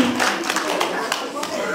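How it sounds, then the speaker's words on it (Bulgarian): An audience at a children's concert claps, a scattered burst of hand claps heard close under a voice talking over it. "Аплодисменти за Симона и за Петър."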